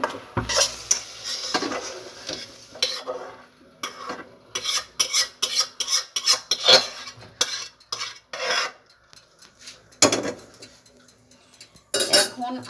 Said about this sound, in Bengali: আমি এখন চুলা বন্ধ করে শুটকিটা নামিয়ে নিব।